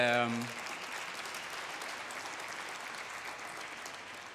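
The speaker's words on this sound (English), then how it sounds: "even before I say anything, you are clapping already" An audience at a conference event applauds in a steady, fairly distant wash of clapping that carries on alone after a brief tone at the start.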